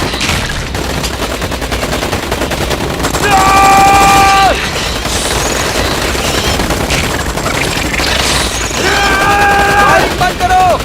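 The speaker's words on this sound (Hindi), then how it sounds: "फायरिंग बंद करो।" A movie battle scene with a monster fills with bursts of loud gunfire and rapid automatic shots, mixed with shrill tonal screeches and dramatic sound effects, while voices shout over the din.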